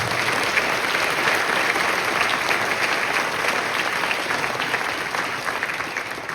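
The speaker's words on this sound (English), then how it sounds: "Can we give her a big round of applause?" An audience at a Broadway Christmas concert in Los Altos, California, claps in a full, sustained round of applause that holds steady and begins to taper near the end.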